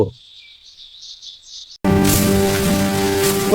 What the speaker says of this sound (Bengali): ওই বৃষ্টি শুরু হয়েছে।